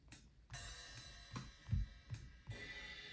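Sparse live drum kit samples played alone: two kicks thumping, sharp snare cracks and ringing cymbal washes in a loose, slow pattern.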